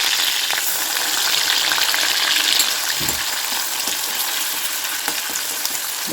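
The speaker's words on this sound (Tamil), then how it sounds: "இந்த பேஸ்ட்டை போட்டு நல்லா பச்சை வாசம் போட்டு வதக்கிக்கலாம்" Ground masala paste sautés in hot oil with curry leaves and fennel, giving a dense, continuous sizzle that stays loud and even throughout, close up with no voices.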